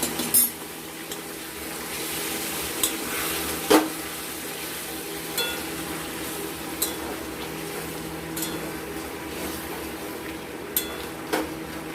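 Fish and potato curry with a little water, cooking down in a pan: a steady low sizzle and bubbling throughout, broken by a few scattered sharp clicks of a spoon against the pan, close by, no speech.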